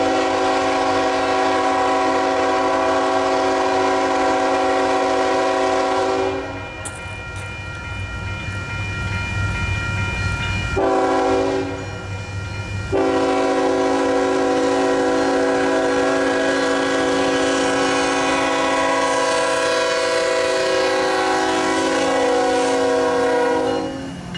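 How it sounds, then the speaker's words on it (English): A CSX ET44AH locomotive leading a loaded pipe train in Camden, Arkansas sounds its horn loud and close in long sustained blasts, with a brief gap and a short sounding between them, over a low rumbling engine. "A CSX ET44AH was leading a loaded pipe train."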